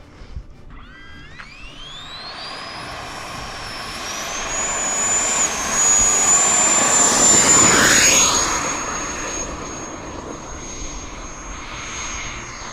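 An AF Model F-22 RC jet on its maiden flight gives a thin turbine whine that builds as it takes off, swells loudly as it passes close overhead, then fades steadily into the distance, with no voices.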